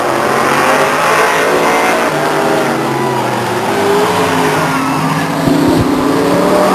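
Stock cars racing at Stockton 99 Speedway in 1999, engines roaring loudly and continuously as cars pass close by, with a dense sustained mechanical drone and brief tire noise near the end.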